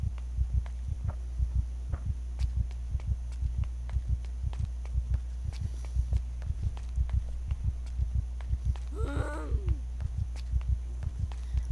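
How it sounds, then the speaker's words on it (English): A panicked character's heartbeat in the Project Zomboid video game, a steady low double thump repeating throughout over a constant hum, with a brief chirping sound near the end. "that's my character's heartbeat"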